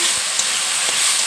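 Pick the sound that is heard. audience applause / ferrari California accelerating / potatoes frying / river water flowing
potatoes frying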